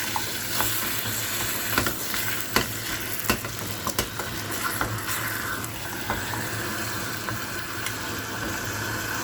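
A spoon stirs seasoned minced-meat pie filling with black pepper and salt in a pan, giving soft scraping and sporadic clicks over a steady low sizzle, close and moderately quiet.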